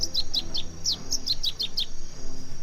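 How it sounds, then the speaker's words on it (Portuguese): A masked yellowthroat calls in a marsh, repeating quick, high, bright chirped phrases close by in a steady rhythm, with a faint insect hum behind and no one talking. "Numa área de banhado, quem aparece é o pia-cobra."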